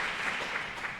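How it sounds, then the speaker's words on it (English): Audience applause filling a conference hall after a research presentation, a dense, steady patter of many hands clapping throughout the short stretch with no voices over it. "I think my voice was covered by the applause"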